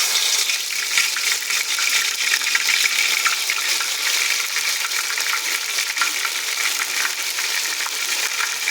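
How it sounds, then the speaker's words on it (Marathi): Ginger garlic paste fries in hot oil with a steady, loud, dense sizzle that barely changes, close up and with no voices. "सर्वात आधी तेलामध्ये मी फ्राय करतो आहे अद्रक लसूण पेस्ट"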